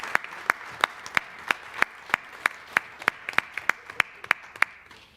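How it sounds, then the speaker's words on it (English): A small group claps at a community board committee meeting, a thin round of separate, distinct claps spaced fairly evenly, a little ragged and moderately loud in a quiet room. "So round of applause for Janine in absence."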